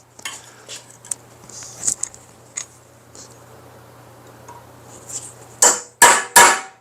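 Sharp metallic hammer strikes on a center punch over an anvil ring out, scattered light taps first, then three loud, close blows in quick succession near the end.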